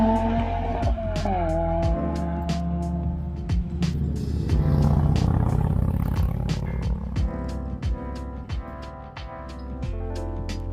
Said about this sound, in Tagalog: Grabe yung exhaust sounds dito mga kater